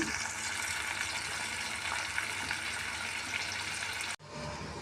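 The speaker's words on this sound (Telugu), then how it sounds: "ఇది బాగా మగ్గేలాగా వేయించుకోవాలి" Ladies finger curry with tomatoes fries in a pan, a steady dense hiss and crackle that holds evenly for about four seconds, then cuts out abruptly and returns softer.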